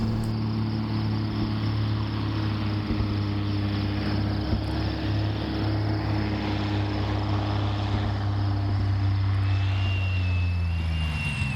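A Cessna 182 light airplane on approach to a very narrow backcountry airstrip, its propeller engine droning loud and steady from inside the cockpit with small throttle changes and wind noise.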